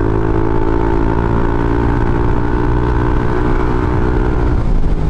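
A motorcycle engine with a JVT Pipe V3 exhaust and CVT set runs loud and close in a steady, throbbing hum that holds at an even pitch throughout, with no talking.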